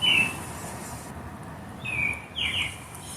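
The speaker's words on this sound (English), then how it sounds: "You hear how loud those birds are?" Birds calling before dawn at about 4 a.m., confused by a bright artificial light, heard as a few thin high chirps over a steady background hiss, moderately loud and spaced apart.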